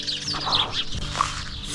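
Sparrows chirp and twitter in a bush as they settle for the evening near Lake Wairarapa, a soft, continuous chorus of overlapping tweets set against a low background rumble.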